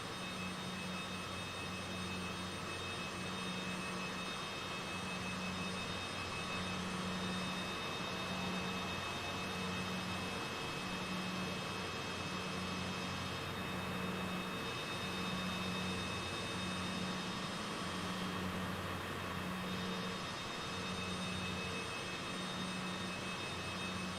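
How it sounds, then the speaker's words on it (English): A plane in Microsoft Flight Simulator runs with a steady engine drone and a pulsing low hum, constant and moderately quiet for over twenty seconds with no talking. "Sounds like I heard a plane start up."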